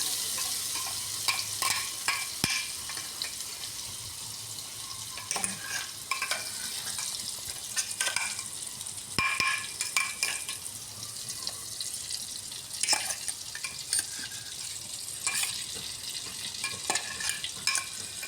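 Ground onion paste frying in a pan on low heat while being stirred constantly, a continuous sizzle broken by frequent spoon scrapes and knocks against the pan.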